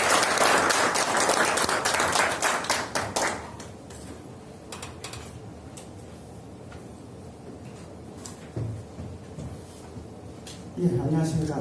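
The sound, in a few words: audience applause welcoming speaker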